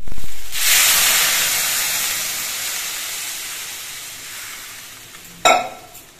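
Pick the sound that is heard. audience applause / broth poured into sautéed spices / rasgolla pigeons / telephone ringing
broth poured into sautéed spices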